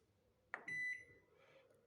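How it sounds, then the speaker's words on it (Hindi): A microwave oven with a no-heating fault is switched on, giving a sharp click and then a single clear electronic beep, close but quiet over a soft background hum. "अब इस माइक्रोवेव को हम ऑन करके देखेंगे"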